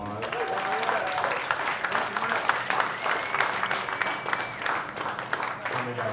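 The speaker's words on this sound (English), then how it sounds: "can we give Mike a big round of applause?" Audience applause for a creative finance speaker, a steady wash of clapping from a crowd at moderate loudness throughout, with some voices mixed in.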